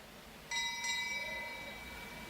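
A bell rung for the final lap at a junior track cycling race in Melbourne, a bright ringing onset with lingering metallic tones that sustain over steady arena background noise.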